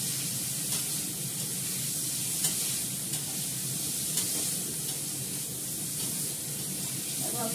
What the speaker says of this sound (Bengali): এখন আমি এটাকে সুন্দর করে কষিয়ে দিচ্ছি।